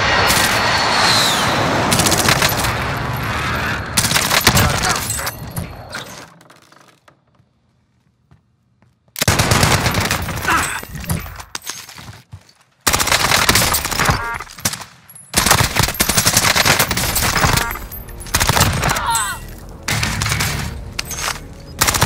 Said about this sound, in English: Airstrike target designated.